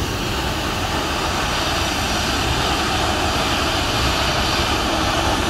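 Aircraft engines at Toussaint Louverture airport give a steady, loud, broadband roar that holds without a break, with no voices over it.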